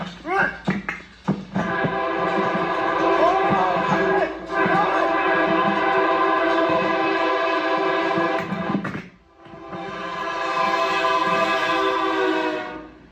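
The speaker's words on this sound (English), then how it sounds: "the blaring sound of the horn could be heard from directly behind them" A loud, sustained train horn blares in long blasts, echoing inside a tunnel, with a brief gap before sounding again.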